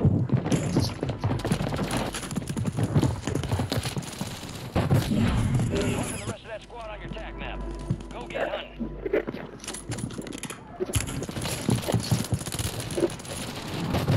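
The RA 225 gun in a video game firing loud rattling bursts of rapid shots, with a quieter lull midway before the shooting picks up again, mixed with other game noise and voices in the background.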